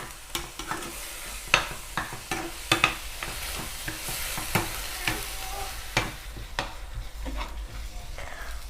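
Tomatoes simmering and softening in a pan for Thai nam prik ong, with a steady sizzle broken by repeated sharp scraping stir strokes, close and fairly loud, no talking.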